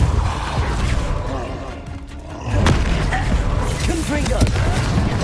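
The Repulsor spell is cast in Hogwarts Legacy during a busy magical duel, landing as a sudden heavy whooshing thump over a constant loud wash of combat effects and game noise.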